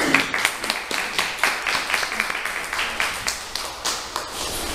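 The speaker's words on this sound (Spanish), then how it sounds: "les pido un aplauso, por favor" An audience at a lecture session on prehistoric archaeology gives a round of applause, with moderate, fairly even clapping and no speech.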